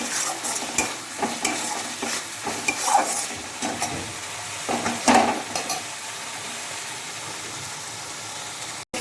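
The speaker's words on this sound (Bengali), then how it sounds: "কষিয়ে নিই মশলাটা।" Spice paste sautéed in a pan, with ash gourd cooking water used in the dish, a constant sizzle under repeated scraping strokes of a spatula, close and moderately loud, ending abruptly.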